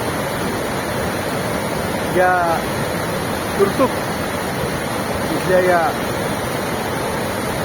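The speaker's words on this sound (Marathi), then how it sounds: "नदीमध्ये वाहणाऱ्या या ओढ्याचं हे रौद्र रूप हा सगळा फेसाळणारा पाण्याचा लोंढा" A foaming mountain stream in Turtuk village, Ladakh, roars as a loud, unbroken broadband rush close by, with someone speaking briefly over the water noise.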